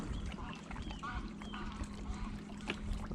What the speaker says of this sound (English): That's another Canada goose,